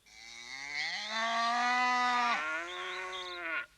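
Young calves in a cattle pen moo in one long, loud, drawn-out call lasting several seconds, sounding close and clear with nothing else over it.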